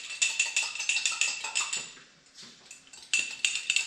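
Metal whisk clattering against a pot while stirring beef stroganoff sauce in an Instant Pot, a fast run of bright scraping clinks that pauses briefly midway, then resumes with close, steady rhythm.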